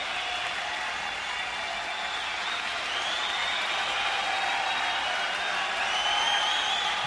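Sustained applause and cheering from a large concert crowd at a live show in London in 1984 forms a steady, dense wash of clapping that swells slightly toward the end, with no voices over it.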